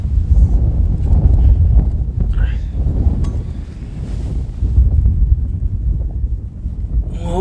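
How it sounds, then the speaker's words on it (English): Strong wind buffeting a microphone on a hilltop during metal detecting in England, a loud low rumbling roar in uneven gusts that rise and ease, with faint rustles and small knocks in the background. "It's so windy up here."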